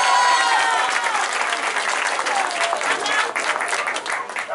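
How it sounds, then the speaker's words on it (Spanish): Crowd applause at a public works inauguration ceremony in San Mateo Cuautepec, strong and continuous clapping with a voice briefly heard at the start, fading slightly toward the end. "Fuerte el aplauso para ella."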